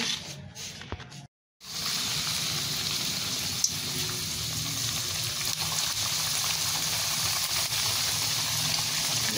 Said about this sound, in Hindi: अब हम फ्राई के लिए इनको कढ़ाई में डालेंगे।